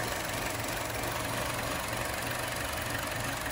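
A Chevrolet Cruze engine idling after a Stigan turbo install, a steady continuous hum and rumble close by, even in level throughout with no talk.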